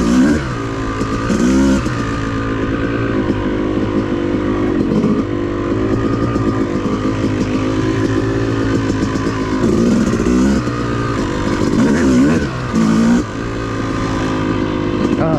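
An off-road vehicle engine revs steadily and loudly up close on a mountain OHV trail at Brown Mountain, driven in third gear, droning continuously with rising and falling surges throughout.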